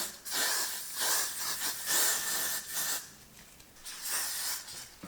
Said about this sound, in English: I'm just gonna go ahead and spray this all around this area, like the hairline